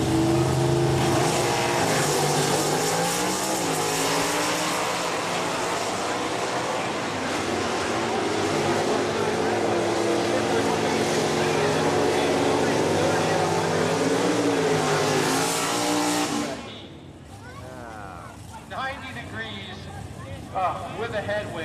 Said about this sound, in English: The left lane, monster Hemi 4-speed transmission